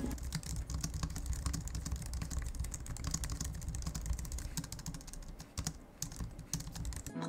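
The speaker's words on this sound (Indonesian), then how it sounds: "By the way, seperti ini typing testnya." Fast, continuous typing on a compact Logitech MX Keys Mini keyboard, with dense key clicks that run close and steady throughout and no speech.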